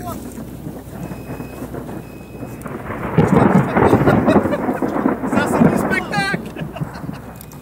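Thunderstorm near a developing tornado, fed by humid air on its southern flank, with loud rolling thunder swelling midway amid wind buffeting the microphone and steady rain.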